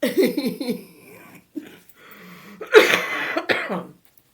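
A person with a winter cold coughs and clears their throat, close and loud. A run of short coughs comes first, then a pause and a harsher burst of coughs.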